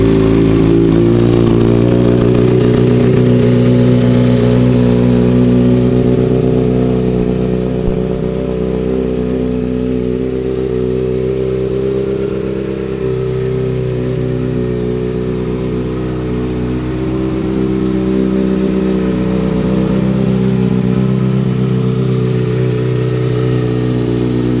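A 2012 Kawasaki Ninja 600 ZX-6R motorcycle engine runs close by, a loud, steady, throbbing idle that holds evenly for the whole stretch with no talking.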